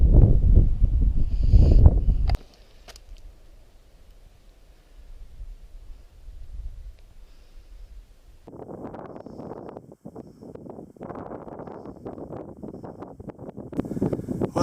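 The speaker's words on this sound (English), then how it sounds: "Wind's picking up." Wind gusts on a canyon hike in Canyonlands, loud buffeting microphone rumble at the start, then a quieter lull before fresh rushing gusts build again through the second half.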